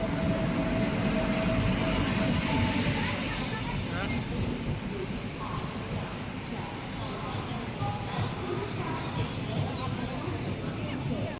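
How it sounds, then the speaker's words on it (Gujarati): A superfast express train arriving at a platform rumbles steadily close by, a broad continuous roar with faint metallic squeals, while voices murmur underneath. "Superfast Express is coming on platform number 6."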